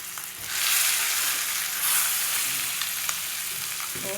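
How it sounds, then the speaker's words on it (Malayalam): Fish coated in chili powder fries in a pan over low heat, giving a steady, close, loud sizzle and crackle that runs unbroken throughout with no voices. "നമ്മൾ സാധാ പൊരിക്കണ മാതിരി തന്നെയാണ്. അങ്ങനെ പൊരിക്കുക."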